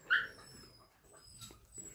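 A three-month-old female puppy gives a short, sharp whimpering yelp close by, followed by faint soft whines and rustling in an otherwise quiet room.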